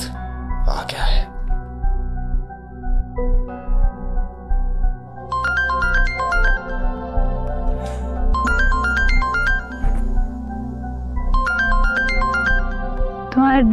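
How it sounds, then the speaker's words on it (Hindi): Phone ringtone chiming in three repeated bursts of bright melodic tones, moderately loud, with a voice and background music beneath it in a drama scene. "तुम्हारे डैड का फोन"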